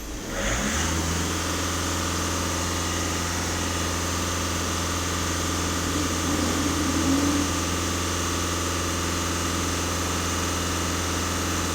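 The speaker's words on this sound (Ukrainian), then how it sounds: "на холостих даю газ в дві з половиною" A VW Passat 1.6 TDI diesel engine starts out idling, then is held at about 2,500 rpm. It gives a steady, loud, close drone with a constant low hum that barely changes across the whole stretch.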